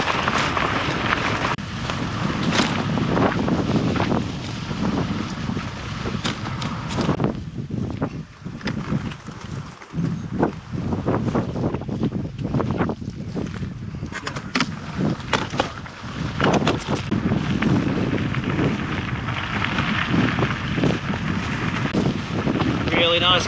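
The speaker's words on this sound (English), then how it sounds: "A bit windy, but mostly crosswind." Gusty crosswind buffets the microphone on a cliff-top trail while bikepacking the Walk the Yorke route in South Australia, a loud, continuous roaring rumble rising and falling in gusts.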